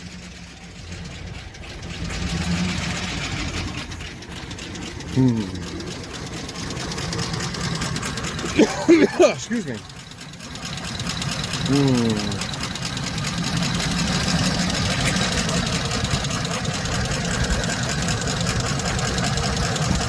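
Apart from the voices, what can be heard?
2007 Chevy Express 3500 engine idling with ticking lifter noise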